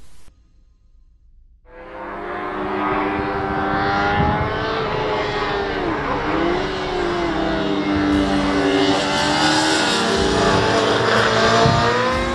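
A Honda CBR 1000 with a 178-horsepower inline four-cylinder engine starts up out of near silence, then runs steadily with a smooth, climbing wail that stays loud and close to the end.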